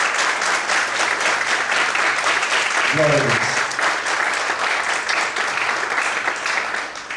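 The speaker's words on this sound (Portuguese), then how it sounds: "Será que você pode aplaudir? Mas aplaudir bem forte ao Senhor Jesus." A church congregation applauds loudly and steadily for the whole stretch, with a single voice briefly calling out partway through.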